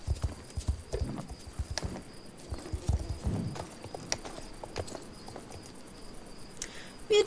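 Hooves clip-clop steadily as a horse is ridden in the online game Star Stable Online, a close, repeating trot with a brief whinny-like sound near the end and soft ambient insect chirps behind.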